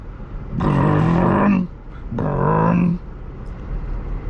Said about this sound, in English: this car has a different sound. It's got a high pitched sound.